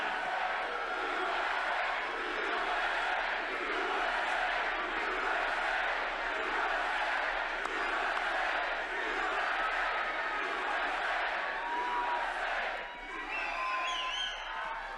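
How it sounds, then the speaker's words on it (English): Large crowd at a Donald Trump rally cheering and shouting continuously and loudly, a sustained roar with whoops, easing slightly near the end. "What a crowd."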